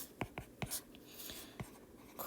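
Pen or pencil writing on paper while working a trigonometric substitution integral: a few short scratchy strokes with brief pauses between them, close and quiet, with no talking.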